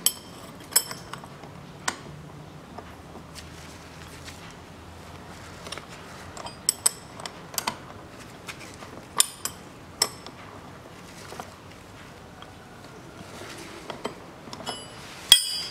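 Tightening a nut on the rear shock absorber mount of a 2011 Hyundai ix35 produces scattered sharp metallic clinks and ratchet-like taps, spaced irregularly and fairly quiet, with no talking.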